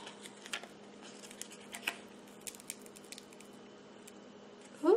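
Scissors cut out shapes from Oracle 651 adhesive vinyl, making sparse, quiet snips and papery rustles over a soft steady hum, with a louder handling rustle at the very end.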